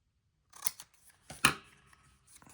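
Scissors cut paper for a grungy junk journal in a quiet room: three separate snips, with brief rustles of paper between them.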